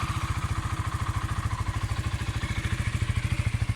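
A Honda CBR 125 motorcycle with stock exhaust idles with a steady, rapid low thumping pulse, loud and close, unchanging throughout with no voices.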